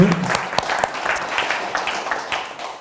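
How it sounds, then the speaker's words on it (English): Audience applause for a departing fireside-chat guest at a conference session, a moderate, steady patter of hand clapping with some voice-like murmur in the room. "give an applause to Philippe"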